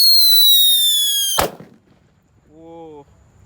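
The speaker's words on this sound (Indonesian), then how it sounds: "Selanjutnya kita nyalakan Whistling King Thunder warna merah" A red Whistling King Thunder firecracker shrieks with a high, steady whistle, then bursts in a single sharp, loud bang that rings and fades, followed by a short voice.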